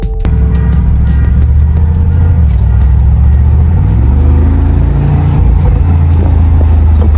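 Mercedes G-Wagon AMG engine revving loudly on a late-night drive, a steady deep exhaust drone rising and falling with throttle, carrying scattered crackling pops and burbles throughout.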